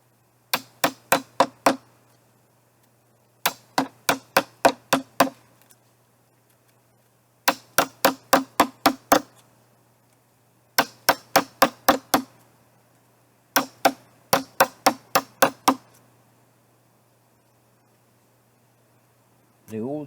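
An old Chinese chisel tapped into wood, sharp hammer strikes coming in quick bursts of five to seven blows separated by short pauses, clear and close in a quiet setting.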